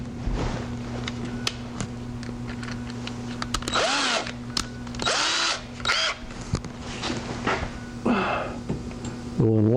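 Power drill enlarging a screw hole, several short bursts of whirring that rise and fall in pitch as the bit bites, close and fairly loud over a steady background hum.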